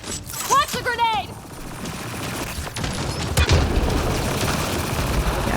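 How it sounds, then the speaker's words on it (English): A grenade blows up in the video game Mass Effect Andromeda with a sudden loud boom and lingering rumble and debris, after a voice shouts briefly amid ongoing combat noise. "Watch the grenade!"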